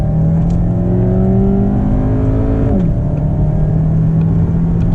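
A Cadillac CTS accelerating hard through a 0-60 run, its engine droning loud and steady up through the revs, with a quick gear change partway through before the pull resumes, no voices.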